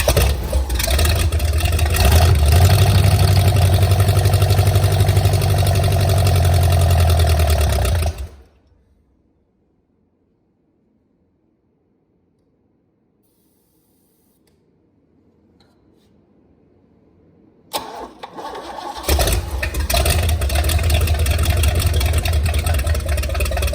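A Mercruiser 454 marine V8 runs loud and rough on a test bench for about eight seconds, cuts out to near silence for roughly ten seconds, then fires back up and keeps running steadily to the end.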